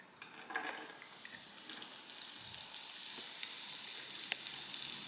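Onion sizzles and fries in a pan, a steady hiss with a few stirring scrapes and light utensil clinks, close and moderately quiet with no talking.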